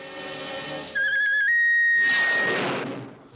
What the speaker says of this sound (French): Si seulement on avait le sifflet magique, on serait sauvé.